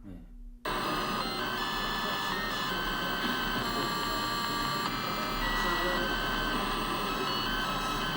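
An early Altair-era hobbyist computer from the Homebrew Computer Club days plays a tune as buzzy electronic beeps, a loud, steady, sustained drone of tones that begins after a brief quiet start.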